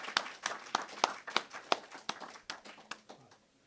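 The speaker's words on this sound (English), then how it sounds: "a big round of applause to all the awardees who have received awards till now" An audience at a graduate awards ceremony claps for the award recipients: sparse, fairly even hand claps, close and moderately loud, thinning out toward the end.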